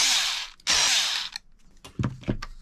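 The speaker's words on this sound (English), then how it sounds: "I'm going to also take the driver and go after these two screws, which will release the bumper away from the shock tower" A power driver whirs in two close, loud bursts as it backs screws out of the bumper on an Arrma Big Rock RC car, followed by small clicks and taps of parts being handled.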